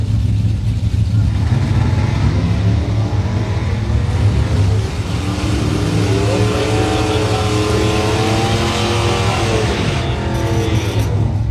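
Drag racing cars, a Camaro and an S10, in a Street Trophy final round: a loud, continuous engine roar with rising revving harmonics midway, heard under a muffled announcer's voice.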